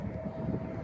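A small American Airlines commuter plane landing at Philadelphia International Airport (PHL) gives a steady, continuous low engine rumble and roar, moderately distant and unbroken, with no talk over it.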